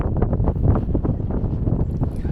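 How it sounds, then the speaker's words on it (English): Strong wind on the Shetland Islands buffets the microphone in a low, continuous roar with gusty surges and no talking. "so windy"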